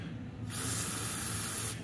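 Brake cleaner sprays from an aerosol can onto a yoyo bearing in one steady, loud, close hiss lasting just over a second.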